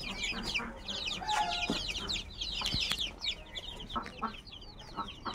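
Ducks and chickens on a desi poultry farm cluck and chatter in dense overlapping calls, near and lively, with a few sharper squawks.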